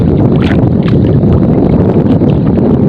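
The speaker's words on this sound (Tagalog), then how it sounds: "Ayun mahangin na." Loud, constant wind buffets the microphone on a shore while fishing, a dense roaring rumble with no voices.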